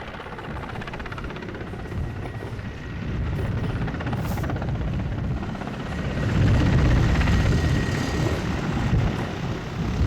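A helicopter flies low overhead, kicking up dust during a rehearsal in Tiruppur, its rotor thudding and engine drone steady and fairly loud, swelling as it draws nearer toward the end.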